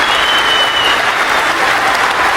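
A wrestling arena crowd on its feet at an APW event, cheering and applauding in a dense, steady roar that stays loud and unbroken throughout, with no clear voices standing out.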